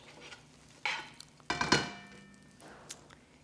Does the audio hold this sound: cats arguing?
no